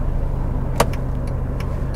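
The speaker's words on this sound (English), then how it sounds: "they're very grumbly, those engines, aren't they?" Low, steady engine rumble from a cheap Mercedes C-Class estate idling in the cabin, a broad continuous grumble with a brief click partway through and a few faint higher chirps.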